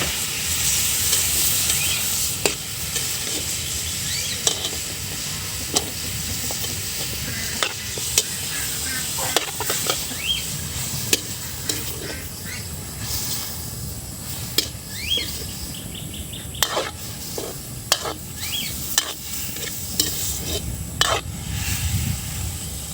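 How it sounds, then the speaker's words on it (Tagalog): Pork fat sizzles steadily in a pan as it renders into oil, with a continuous frying hiss broken by frequent sharp clicks and scrapes of a utensil stirring, close and moderately loud. "Uunahin po yung lempo para lumabas po yung mantika po niya."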